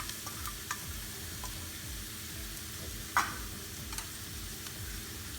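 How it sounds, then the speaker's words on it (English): Chopped celery sautés in a hot pan for a cauliflower Manchurian sauce, a steady close sizzle with a few light ticks and one sharp clink partway through. "Once we saute this, I like to put a little celery in it."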